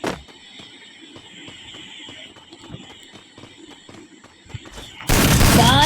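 Video game gunfire with headshots: a steady run of light, rhythmic shots over a constant electronic game hum, ending in a sudden loud, noisy burst.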